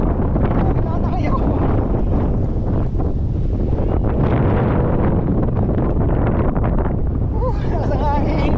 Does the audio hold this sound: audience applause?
no